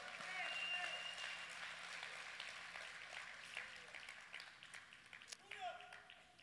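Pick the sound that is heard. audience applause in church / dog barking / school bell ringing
audience applause in church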